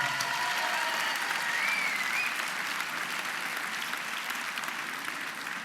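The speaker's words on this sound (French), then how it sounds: "On peut l'applaudir de nouveau" Steady, dense clapping from an audience fills the whole stretch, holding at an even level without pause.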